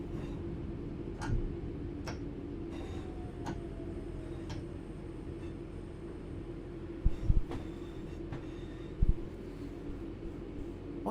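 A rail engine in passenger service between Glossop and Manchester hums low and steady from inside the cab, with rhythmic ticking and a few sharp clunks from the track as the train rolls slowly along.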